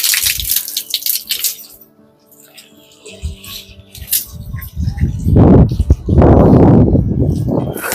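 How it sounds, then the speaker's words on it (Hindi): Water running and splashing as flowers, mostly bougainvillea, are watered in a rooftop garden with a makeshift rig, loud bursts of gushing water in the second half, after someone talks over quieter moments. "अभी सारे फ्लावर्स में वाटरिंग का काम कर रहा हूँ।"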